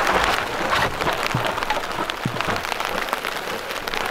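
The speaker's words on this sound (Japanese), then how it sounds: "雨だね。" Rain falls on the roof of a 100-series Toyota HiAce camper van, a dense, steady patter of drops with scattered louder taps, close and continuous throughout, with no talking.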